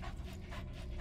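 A dog pants rapidly and steadily up close in Metal Gear Solid V: The Phantom Pain, a quick rhythmic run of breathy huffs filling the moment.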